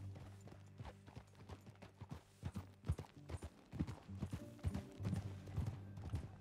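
Irregular clopping of horse hooves on hard ground in Red Dead Redemption 2, a fast uneven rhythm with a low musical drone underneath, fairly quiet.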